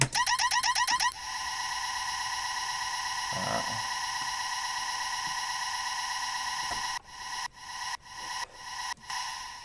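A sustained, reverberant synth drone pad holds steady after a burst of pulsing stabs, then breaks into rhythmic sidechained, gated swells near the end.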